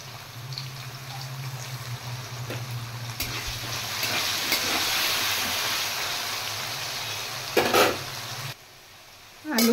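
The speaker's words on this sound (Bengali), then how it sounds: "এবার আমি কেটে রাখা আলু ভেজে নেব" Cut potato pieces fry in a pan of oil with salt and turmeric, giving a steady soft sizzle with occasional stirring scrapes and a brief louder clatter near the end.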